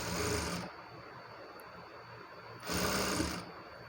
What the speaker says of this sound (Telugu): ఇప్పుడు రైట్ సైడ్ నేను మెయిన్ ఫ్యాబ్రిక్ని పెట్టి ఇలా స్టిచ్ చేస్తున్నాను